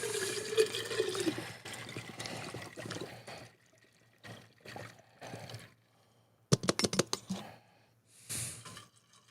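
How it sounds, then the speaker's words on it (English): Water is poured into a cup in several quiet, close splashing bursts separated by short pauses, with soft handling noises between them. "Some more water here. We'll pour into my cup because I've been really thirsty just today."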